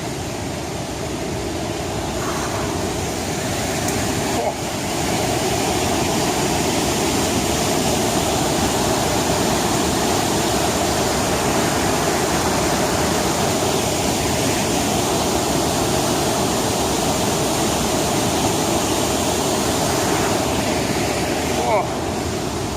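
Crystal Falls, a waterfall running high with water in a green forest, roars as a loud, steady, broadband rush that continues unbroken throughout with no talk heard.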